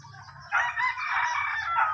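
A rooster lets out a single loud crow close by on a small backyard chicken setup, following a few soft clucks from the hens.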